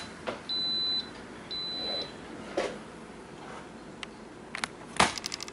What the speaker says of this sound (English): So it just beeped, and that's on the keep warm setting.